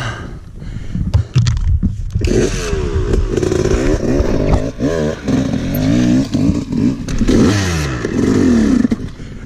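A dirt bike engine revs hard and continuously on a rough off-road trail at Carnegie SVRA, its pitch rising and falling with throttle blips and gear changes, loud and close throughout.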